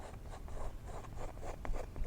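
A palette knife scrapes across wet oil paint on canvas while working a mountain range in the wet-on-wet style, giving repeated short rasping strokes, close and fairly soft, with no talk.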